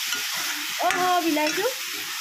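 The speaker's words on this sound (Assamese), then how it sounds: "বিলাহীটো একেলগে ভাজি দিওঁ" Tomato pieces fry and get stirred in a hot pan, a steady close sizzle with a brief scraping stir in the middle.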